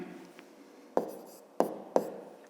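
Pen or chalk strokes writing out a fifth-grade math solution, with three distinct sharp taps and short scratches spaced roughly half a second apart, close and fairly quiet against a hushed room.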